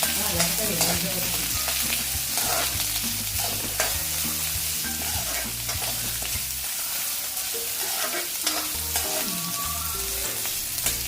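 Onions and green chillies sautéing in a pan for a fish curry, a steady close sizzle with repeated scraping and stirring strokes of a spoon, no voices.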